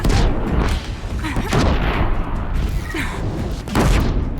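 Bombs explode one after another on enemies in Horizon Zero Dawn, a series of loud, deep booms and rumbling blasts close up, crowding the whole moment with little pause.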